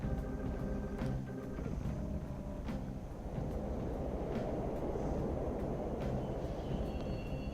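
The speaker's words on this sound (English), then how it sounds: "The train totally runs." In Persona 5, a subway train runs through the tunnel with a continuous low mechanical rumble and occasional sharp clicks, steady and alone for several seconds.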